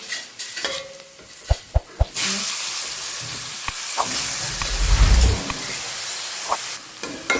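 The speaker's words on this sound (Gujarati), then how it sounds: "હવે આપણે એમાં સાથે સાથે હળદર એડ કરીએ અને ધાણા જીરું એડ કરી દઈએ. મિક્સ કરી લઈએ." Turmeric and coriander-cumin powder being stirred into a sizzling pan: a few sharp spoon knocks against the pan, then a loud continuous frying hiss with scraping stirring strokes.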